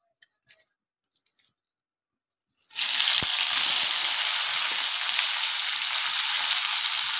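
Onion is dropped into hot oil in a wok and erupts into a loud, continuous sizzle after a few seconds of near silence with faint handling clicks.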